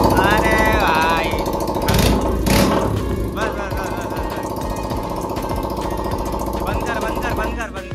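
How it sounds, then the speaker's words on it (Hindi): A Yamaha R15 V4 motorcycle engine runs with its exhaust removed, producing a loud, steady, raspy mechanical drone close to the microphone, with a couple of blipping revs near the start before it settles. "बिना एग्जॉस्ट के साउंड सुन लो एक बार।"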